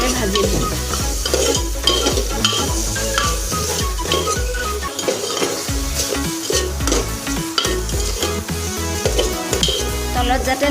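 Pieces of pointed gourd fry in hot oil and are stirred in a pan: a loud, continuous sizzle with steady scraping and clinking of the spoon throughout.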